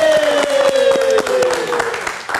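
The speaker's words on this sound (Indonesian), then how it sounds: "Mari kita tepuk tangan dulu." Applause rises in a burst of claps under a sustained tonal sound, loud and close, with a short stretch of rhythmic clapping.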